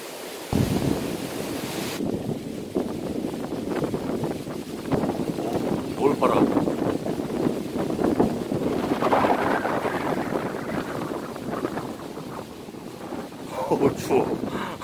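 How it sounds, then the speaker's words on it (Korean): On a cold mountain a sudden gust of wind roars hard and rumbles into the microphone, buffeting steadily and swelling in waves, with a person speaking in between. "바람이 갑자기"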